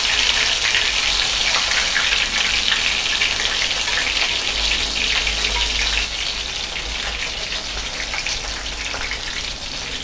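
Soya chunks (meal maker) deep frying in hot oil on a low flame, giving a dense, continuous crackling sizzle that stays close and even, easing slightly in loudness partway through.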